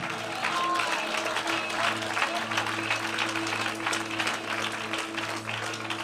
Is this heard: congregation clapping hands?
yes